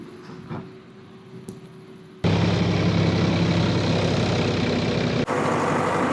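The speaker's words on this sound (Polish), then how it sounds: "jestem już w traktorze" A farm tractor engine starts up at night at 2 seconds and runs at a loud, steady roar until a brief dip near 5 seconds, with quieter cab noises before it.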